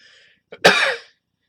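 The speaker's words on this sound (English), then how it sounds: "I have to sneeze" A single loud, close sneeze, a short sharp intake followed by an explosive burst that trails off, then silence.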